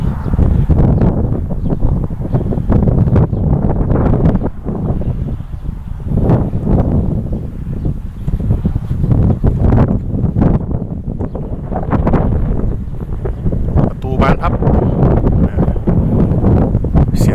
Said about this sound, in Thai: ลมเข้าหรือเปล่าไม่แน่ใจนะครับ ลมแรงครับวันนี้